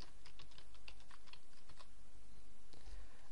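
Quick bursts of keystrokes on a computer keyboard as a short title is typed, close and quiet, with a brief pause before a final couple of clicks.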